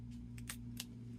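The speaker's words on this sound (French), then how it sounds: "on va couper l'excédent de notre zip" Scissors snip the excess zipper tape off a sewn sports bag, giving two or three quick, faint cuts over a low background hum.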